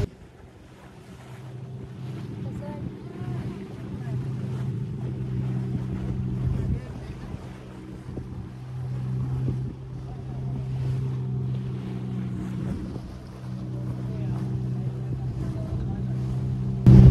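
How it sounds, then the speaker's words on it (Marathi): A boat ride on the sea near Devbag, Malvan, with a low steady engine drone and wind rumble across the microphone throughout, and faint voices in the background. "कसं वाटतंय मग बोट सफारी करून?"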